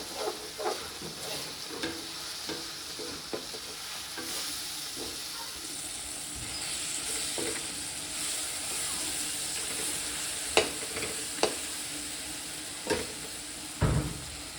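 Chicken frying in a pan with cumin and garam masala, a steady close sizzle and hiss with intermittent scraping and knocks from stirring.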